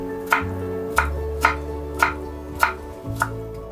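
Six crisp knife chops through strawberries on a cutting board at an even pace, each a sharp tap, close and clear with a low hum behind.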